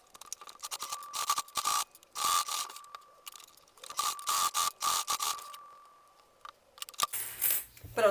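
A sewing machine stitching bias binding around a zipper pouch runs in short close bursts of rapid mechanical whirring, separated by pauses and handling noises, with no voices.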